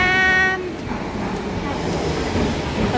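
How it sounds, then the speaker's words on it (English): In the cold evening in Milan, a tram pulls in with a brief high whine of motors and wheels at the start, then a broad rumbling rush of rolling carriages close by. "Hey, there's our tram!"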